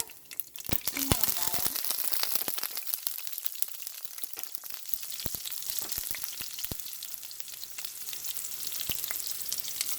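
Mustard seeds, fennel, red chillies and curry leaves crackle and sizzle in hot oil for carrot fry, with sharp pops over a steady hiss, close and continuous, with someone talking.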